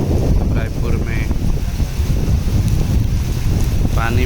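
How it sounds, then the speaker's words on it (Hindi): Heavy monsoon rain pours on a flooded highway in Raipur, Chhattisgarh, as a loud, constant roar with gusty wind buffeting the microphone, and passing vehicle noise mixed in. "आज बहुत तेज़ बारिश हो रहा है रायपुर में।"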